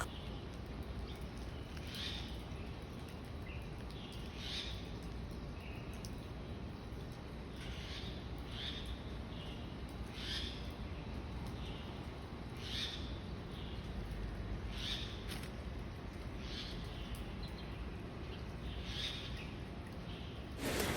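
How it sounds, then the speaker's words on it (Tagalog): Crows calling in Taiwan, repeated short caws spaced every couple of seconds at moderate distance over a steady broadband outdoor hiss in a quiet, peaceful setting. "Pakinggan nyo yung sounds ng uwak."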